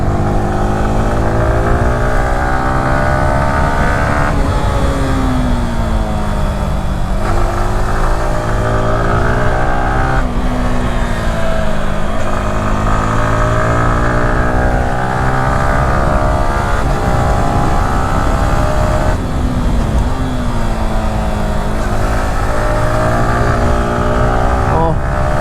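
A Yamaha R15M V4 Carbon Fiber Edition motorcycle engine drones loudly and continuously while riding, its pitch rising and falling through repeated revs and gear changes, with wind noise throughout.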